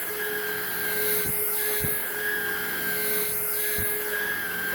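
A Hoover React cordless vacuum cleaner runs on carpet with a loud, steady motor whine and hum, and a few brief thuds and pitch swoops as the head moves.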